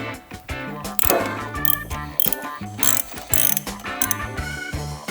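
A socket ratchet with a T45 bit clicks in quick bursts of rapid pawl ratchets while loosening the left foot peg on a Harley Softail, close and crisp, with short pauses between strokes.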